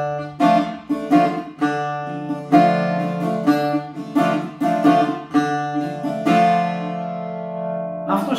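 Guitar strums a syncopated, bouncy funk tsifteteli rhythm with crisp accented chords and quick muted strokes, repeating across two measures with no voice.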